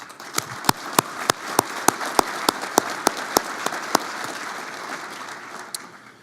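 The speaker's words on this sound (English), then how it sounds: "Let's give them all a round of applause." An audience applauds at a military academy conference, with a few sharp, evenly spaced loud claps standing out near the front over a softer spread of crowd clapping that fades out.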